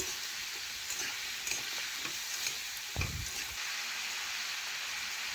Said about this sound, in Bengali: একটু ভালোভাবে কুমড়োর সাথে সমস্ত মশলা আমি নাড়াচাড়া করে এইভাবে মিশিয়ে নিচ্ছি